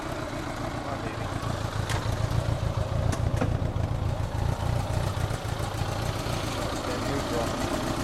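A new motorcycle engine idles and runs at a steady, fairly loud level for the whole stretch, with brief clattering ticks over it; no words are spoken, though some background speech-like sound may be present.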